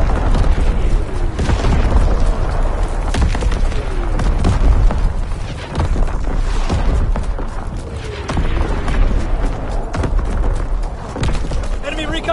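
Incoming enemy artillery explosions in a shooter video game land as dense, repeated booms and thuds layered with gunfire for twelve seconds, loud and continuous, under a shouting voice.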